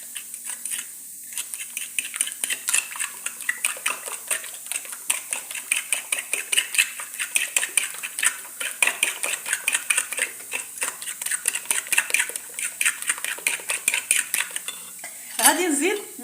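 Eggs with cilantro, turmeric, paprika and salt are whisked in a bowl, a fork or spoon clicking rapidly and rhythmically against the sides for a long, steady stretch with brief pauses.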